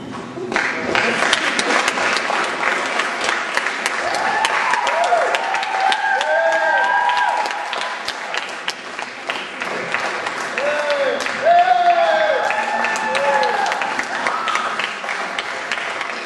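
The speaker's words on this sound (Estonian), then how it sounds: "Ma palun suur aplaus meie järgmisele esinejale." Audience applause for the next performer at a school Bond night event, sustained dense clapping filling the hall for the whole stretch, with a host's voice and some music-like tones underneath.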